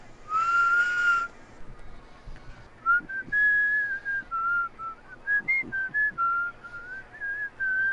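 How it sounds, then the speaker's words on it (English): A person whistles a wandering tune up close: first one long steady note, then a string of short rising and falling phrases with brief gaps, clear and alone. "I know how to whistle."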